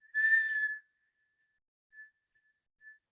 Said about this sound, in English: If you can, you're going to whistle with your inhale.